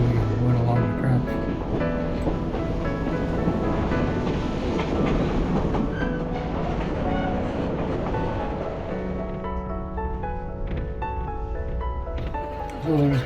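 Steady rumble and rhythmic clatter of the White Pass Scenic Railway train rolling along the rails past waterfalls, continuous and close, with faint voices underneath.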